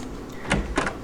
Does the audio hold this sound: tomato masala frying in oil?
no